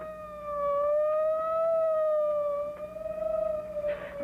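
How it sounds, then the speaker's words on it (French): Police-style siren wailing, a tonal rising-and-falling howl, moderately loud and steady for several seconds, ending with a brief noisy burst. "Comme une sirène de police."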